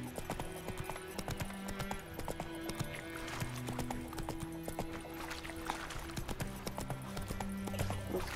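Horse hooves clip-clop steadily in The Witcher 3, a rhythmic run of close, even hoofbeats that carries on throughout, with game music and ambience underneath.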